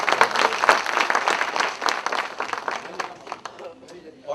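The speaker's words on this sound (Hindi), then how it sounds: "हम बहुत जोरदार तालियों से स्वागत करेंगे" An audience welcomes a guest to the stage with a burst of dense, lively applause that stays loud for several seconds and then thins out, with a few scattered claps at the end.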